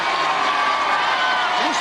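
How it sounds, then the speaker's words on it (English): A TV studio crowd at the 1998 UK Gladiators grand final roars and cheers in a dense, loud, steady wall of noise that holds for the whole moment. "The crowd erupts because it's you-know-who."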